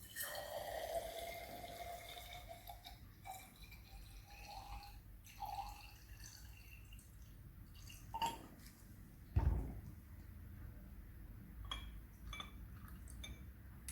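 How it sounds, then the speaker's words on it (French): Distilled water measured out in a graduated cylinder trickles and drips quietly, with a few soft glassy clinks and one sharper knock in a hushed room. "il me reste à ajouter, à l'aide de l'éprouvette graduée, 15 ml d'eau distillée"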